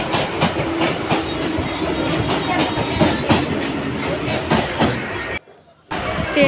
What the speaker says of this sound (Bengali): পাশ থেকে আরও একটা ট্রেন যাচ্ছিল, তো তোমাদেরকে সেটাও আমি একটু শেয়ার করলাম।